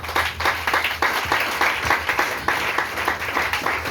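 A church congregation at an Independence Day celebration applauds and acclaims Jesus, sustained dense clapping with rhythmic surges and scattered cheers, filling the room for the whole stretch.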